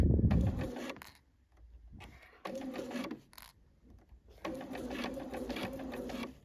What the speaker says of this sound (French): on va coudre le col et fixer évidemment nos fronces